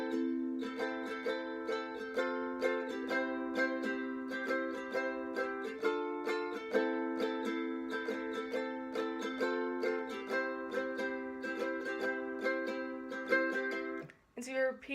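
A ukulele strums the intro chord progression of a song, with clear rhythmic strokes and ringing chords that repeat evenly at close range, ending with a brief handling noise.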